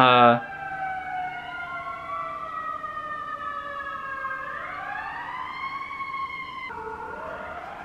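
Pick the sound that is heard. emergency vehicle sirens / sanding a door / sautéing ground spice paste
emergency vehicle sirens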